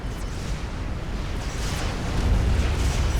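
A TAC missile explodes in a Supreme Commander match, a dense, sustained rumbling blast that builds steadily louder toward the end, with broad low-end roar and no voices over it.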